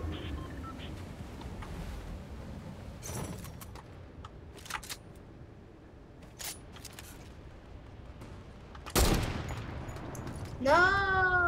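A drum gun fires in a Fortnite-style video game, with scattered short bursts of rapid shots spaced across the stretch, a heavier volley near the end and a rising electronic tone at the close.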